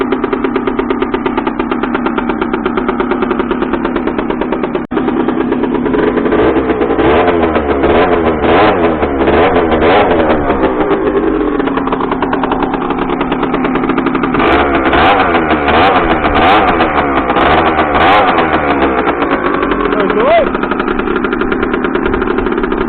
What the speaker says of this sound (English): It does run okay, really responsive, the carb and everything else